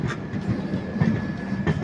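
A train winds through hilly ghat country toward Palakkad in Kerala, its wheels beating a rhythmic clickety-clack over the rail joints under a low rolling rumble, heard from inside the coach with no speech.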